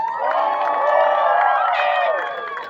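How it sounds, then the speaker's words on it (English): A crowd at a holiday park event in Weatherford, Texas, cheers and applauds for the city parks and recreation staff, a sustained swell of voices and whoops that fades toward the end. "Can we give them a round of applause?"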